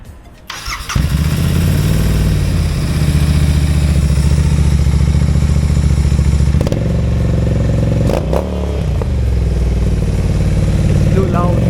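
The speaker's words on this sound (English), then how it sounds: "So let me start the bike and show." A GT 650 motorcycle engine cranks and fires, then idles loudly and close by with a steady, throbbing exhaust rumble and a few brief blips and clatters.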